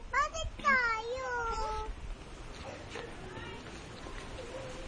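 Kittens meow in a short burst of high, wavering cries near the start, then fainter mews come and go over steady room noise with soft voices in the background.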